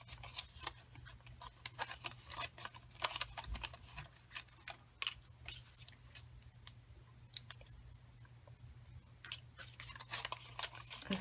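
Die-cut paper letters are broken out of their sheet with many small, quiet crisp snaps and ticks at an irregular rhythm. The sound is close but faint, over a steady low hum.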